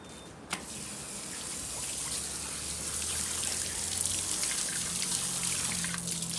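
Running water splashes steadily from a tap as vegetables are washed, with a brief knock near the start and a continuous watery rush throughout.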